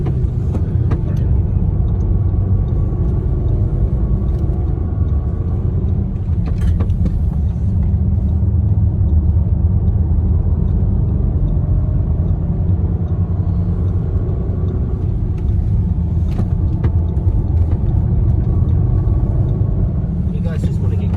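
An Audi RS3 drives a track at Mount Cotton, Queensland, at an easy pace, its engine giving a steady low rumble throughout while people talk inside the car.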